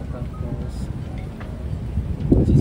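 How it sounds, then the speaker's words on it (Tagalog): Strong wind buffets the microphone outdoors at a hotel anniversary celebration, a low rumbling roar that gusts louder toward the end. "Sobrang hangin dito"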